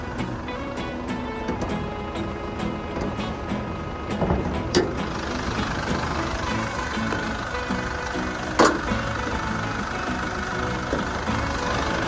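A turbo-diesel Orlando car engine idles with a steady, rumbling clatter close by, a continuous mechanical drone with a couple of brief knocks.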